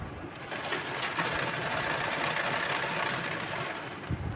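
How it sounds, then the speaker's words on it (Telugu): A sewing machine runs a continuous top stitch along a blouse neckline, its steady rapid whir and rattle filling the whole stretch without pause. "ఈ విధంగా పై కుట్టు అయితే వేసుకోవాలండి"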